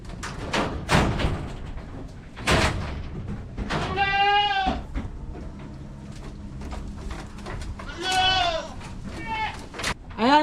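Full-blood Boer goats bleat on a farm in Batangas, several loud wavering calls close by, mixed with rustling, bird sounds and people talking in the background.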